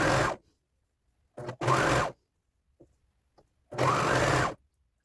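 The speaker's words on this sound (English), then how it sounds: "So I'm gonna need to stretch my waistband a little bit as I sew it so that it fits all the way around." A sewing machine stitches a stretched waistband onto a yoga skirt in three loud, close bursts of rapid whirring, the last one longest, with near silence in between.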